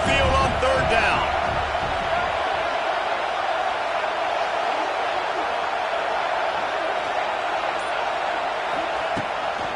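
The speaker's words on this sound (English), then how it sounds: "Here comes this home crowd as the defense tries to get off the field on third down." In College Football 26, a home stadium crowd roars on a third-down defensive stand, a dense, loud, sustained wash of cheering with a broadcast commentator's voice over it.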